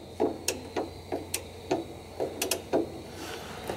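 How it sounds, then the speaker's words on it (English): An extended ratchet clicks in short uneven bursts while loosening the oil drain plug on a Cummins ISX engine, the close metallic ticks coming about a dozen times with no talking. "we got our extended ratchet here, because this plug seems to always get tighter on its own"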